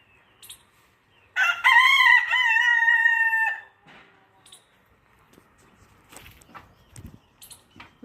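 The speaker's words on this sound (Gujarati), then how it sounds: "અહીંયા આપણા મરઘા ફરી રહ્યા છે." Free-ranging chickens at a newly built poultry setup: one rooster gives a loud, close cock-a-doodle-doo lasting about two seconds, followed by scattered soft clucks and light scratching movements.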